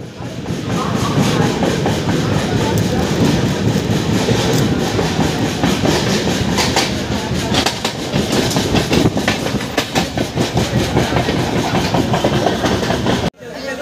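The Dhauli Express from Puri to Howrah rumbles along the rails with a steady clickety-clack and loud continuous roar, close by, ending in an abrupt cut.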